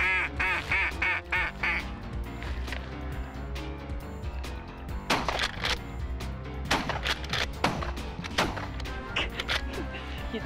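Ducks quack amid several loud shotgun blasts during a waterfowl hunt in North Dakota, the shots coming in close bursts with quacking between them.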